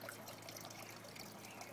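A small garden waterfall on a flagstone patio trickling steadily, a soft continuous splash and dribble of water, faint and even with no other sounds.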